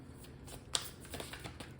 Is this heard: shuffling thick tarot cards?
yes